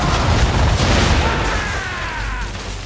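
Ship cannons boom in a naval battle in Assassin's Creed III, a dense, loud barrage of low rumbling blasts merging into continuous roar with no clear pauses, with faint whistling streaks overhead.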